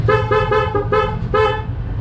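A motor scooter horn, fitted with a horn selector, sounds in five short, loud toots, evenly spaced in quick succession over an idling engine.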